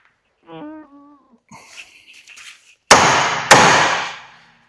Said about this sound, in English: Now that is on a taper, so it's stuck in there, so I need to just give this a little tap and it'll come out.